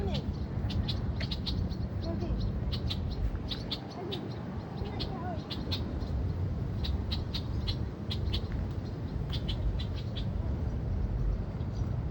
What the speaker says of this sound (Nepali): कालो चरा रहेछ।